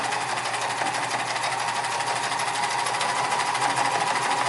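Non-industrial sewing machine stitching leather, a steady, fast mechanical whirring and needle clatter running continuously without pause.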